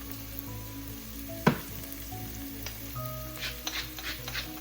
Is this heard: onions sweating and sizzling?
yes